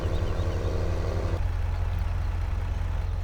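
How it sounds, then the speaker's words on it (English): A tractor engine in Farming Simulator 2017 rumbles steadily at close range, a deep continuous drone with a constant tonal hum that drops slightly in pitch partway through. "I think it's quite noisy, this tractor"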